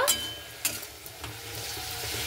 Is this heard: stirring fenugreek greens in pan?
yes